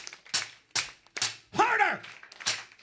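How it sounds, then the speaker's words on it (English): Hands clapping at a live concert by a band, heard as a few sharp, separate claps spaced irregularly, near and fairly loud, with a voice speaking between them. "Now clap your hands like this."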